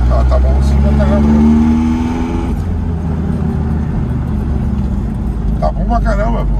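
An old Fiat 147 drives hard on a track during a drift attempt, its engine loud and close with steady revving, while people talk over the noise.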